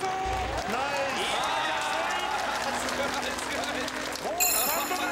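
Audience applause and cheering at the Birdman Rally flight contest, a broad steady wash of crowd noise under an excited commentator's voice, with a brighter swell near the end.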